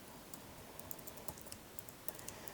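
Terminal command being typed on a computer keyboard: quick, irregular bursts of soft key clicks, fairly close and quiet, with no talking.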